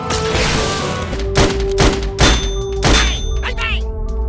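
Shooting gallery targets hit in the Sam & Max video game, a string of four or five loud thuds and clanks with ringing metallic tones between them, close and punchy over a steady hum.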